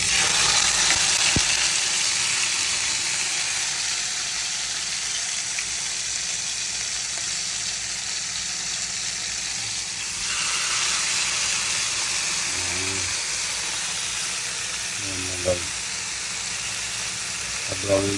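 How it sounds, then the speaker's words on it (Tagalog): Pork belly (liempo) frying in oil in a pan, with a steady loud sizzle and hiss throughout and a few faint clinks near the end. "So ngayon guys, prituhin na natin yung ating liempo."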